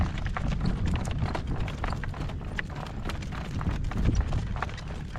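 A horse's hooves clip-clop on the ground outdoors, a brisk, uneven stream of close hoof strikes under a steady breezy rumble, with no talking.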